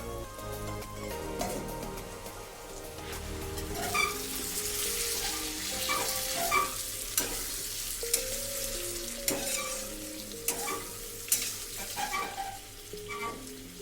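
Fish with potato and aubergine cooking in mustard oil in a Bengali fish curry, a steady sizzle and frying hiss throughout with intermittent clinks and scrapes of a spatula or lid against the pan, close and moderately loud.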